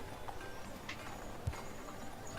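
Horses shifting in a stable for a tabletop RPG scene, with a single soft hoof clop and faint stirring over a steady low background hum, distant and quiet.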